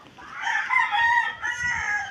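A rooster crows loudly and close, a long drawn-out call in two surges, with chicken sounds around it.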